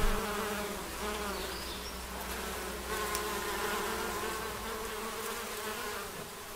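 Honeybees buzzing as they forage on blossoms, a dense steady hum of many insects close by with faint passing flybys, no voices.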